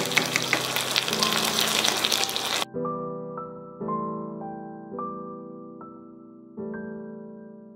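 BBQ chicken wings in sauce frying and sizzling in a pan, loud and dense for the first few seconds, then giving way to a series of separate tonal clinks or taps spaced about a second apart.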